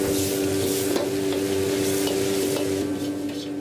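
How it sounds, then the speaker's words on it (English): Sea cucumber sautéing with spinach and pork in a pan gives a steady, close sizzle with light stirring scrapes throughout and no voices. "It is sautéed or simmered with spinach and pork."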